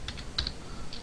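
Several crisp keystrokes tapped on a computer keyboard at close range, a few scattered presses with short gaps between them, quiet and without any talking.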